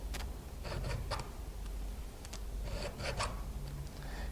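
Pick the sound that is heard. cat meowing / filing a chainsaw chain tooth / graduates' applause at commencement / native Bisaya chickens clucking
filing a chainsaw chain tooth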